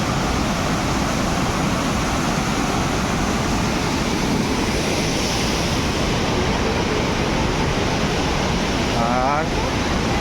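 Borhill Falls in Meghalaya, swollen with plenty of water, gives a constant dense rushing hiss, a loud unbroken wash of falling and flowing water throughout.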